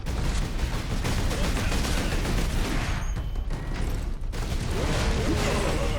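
Continuous dense gunfire and explosions in the video game Warhammer 40,000: Space Marine, harsh and steady throughout, with rattling mechanical clatter and a brief lull in the middle.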